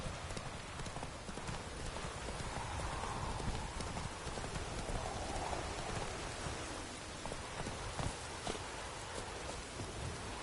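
A horse galloping in The Witcher video game, its hooves making steady clip-clop beats over a constant wash of rain, with no talking heard.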